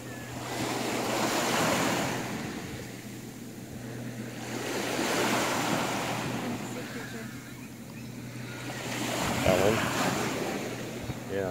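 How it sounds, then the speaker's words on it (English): Ocean waves roll in and wash ashore at Washington Park in Anacortes, Washington, in slow surges about every four seconds, with wind buffeting the microphone. "Watching the waves roll in."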